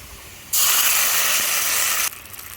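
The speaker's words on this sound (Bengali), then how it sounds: "এখন আমি পানি দিয়ে দিচ্ছি।" Water poured into a hot pan of browned fried onions bursts into a loud, even hiss lasting about a second and a half, then drops back to a low simmer.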